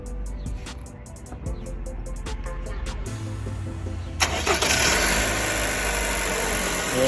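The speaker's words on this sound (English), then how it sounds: "we're gonna start the engine. Let you guys hear this intake." A Toyota Camry 2.5L engine fitted with a Weapon-R performance intake cranks and catches, then settles into a steady, loud idle with a broad intake roar; earlier, faint rhythmic workshop noise is heard at close range.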